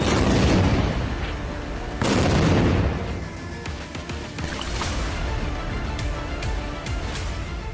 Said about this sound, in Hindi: गोलियों के साथ रॉकेट दागे गए।